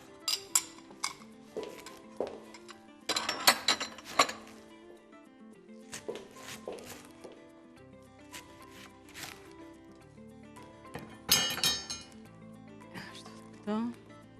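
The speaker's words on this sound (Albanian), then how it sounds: "tash i do presim dhe pjesën tjetër të preshit" Leeks being chopped with a knife on a cutting board for a potato, leek and bacon soup, heard as bursts of sharp knife taps against the board with brief pauses between them, with some clinking of kitchenware.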